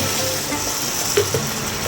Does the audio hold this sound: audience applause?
no